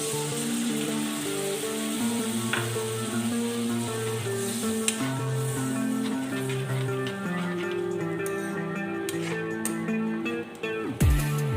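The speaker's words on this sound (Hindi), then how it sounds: "अब हम मसाले भून लेंगे बिल्कुल" Spices fry in hot oil for aloo ki sabji, a continuous close sizzle with stirring clatter and occasional scrapes, ending in a sharp knock of the spoon.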